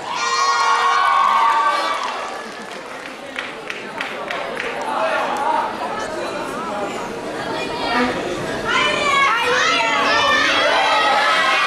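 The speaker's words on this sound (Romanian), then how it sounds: "Bianca Moșneacu, se primim cu aplauze!" Students at a high school freshman ball cheering, shouting and applauding in a loud hall, a dense mix of excited young voices and claps that swells and stays lively throughout.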